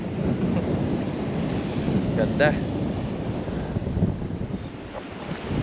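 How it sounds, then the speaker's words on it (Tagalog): Strong seaside wind roars continuously against the microphone over breaking waves, loud and close throughout, with a brief spoken word in the middle. "Sobrang hangin."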